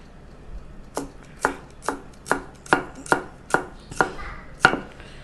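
Red onion being chopped with a knife on a board, about ten sharp, evenly spaced knocks close by, with no talking.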